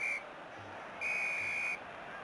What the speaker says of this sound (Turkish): Hakem düdüğünü çalıyor ve ilk yarı sona eriyor.